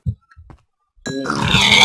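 A pig in the Minecraft video game grunts, a few short low snorts at the start followed by a louder, continuous burst of game sound and noise after the first second.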